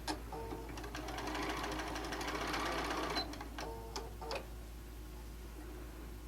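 A sewing machine stitches a panel quilt in a quiet room, a rapid even run of needle clatter for about three seconds before it slows and stops, followed by a few soft clicks.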